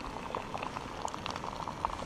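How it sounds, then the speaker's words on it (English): Water boils in a Jet Boil camp stove outdoors, a soft, steady bubbling with scattered pops and gurgles, close and fairly quiet. "It's bubbling."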